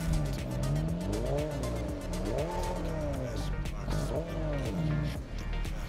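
A car in Test Drive Solar Crown launches with no launch control, its engine revving hard through rising gear sweeps while tires squeal, loud and close throughout.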